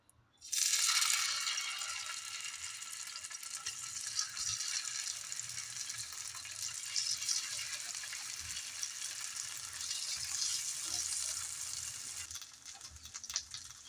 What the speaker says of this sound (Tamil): இப்போ இந்த க்ரீன் மசாலா ஃபிஷ்ஷை வறுத்து எடுத்துக்கலாம்.